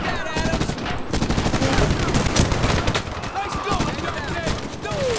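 Sustained automatic gunfire and rapid shots in a Medal of Honor (2010) firefight, loud and dense throughout, with crackling bursts layered over each other and shouting voices underneath.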